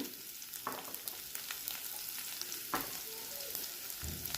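Finely chopped ginger and garlic fry in a pan of oil for Rajasthani panchratna dal, giving a soft continuous sizzle with a few stirring scrapes and no talking.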